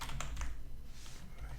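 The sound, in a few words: typing on a computer keyboard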